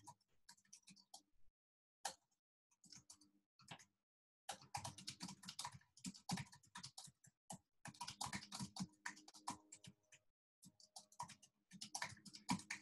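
Fingers typing a message on a computer keyboard, producing bursts of quick, close key clicks separated by short pauses, with no talking over them.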